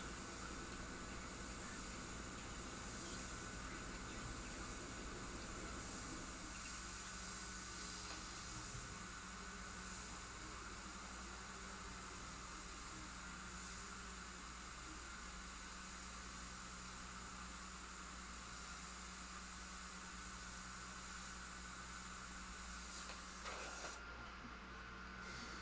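An airbrush sprays paint onto a motorcycle helmet, giving a steady, continuous hiss that runs close and even for the whole stretch, with a brief break near the end.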